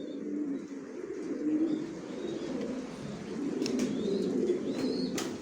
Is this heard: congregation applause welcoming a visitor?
no